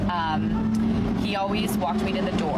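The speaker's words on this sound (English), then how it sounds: "sorry for the noise, I'm at a gas station" Steady traffic and engine rumble at a gas station, a car-like drone running continuously beneath a woman's close, ongoing speech.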